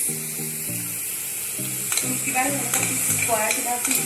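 Tomatoes fry in a pan while being stirred, a steady sizzle broken by scraping stirs and soft clinks, close and continuous with no talk.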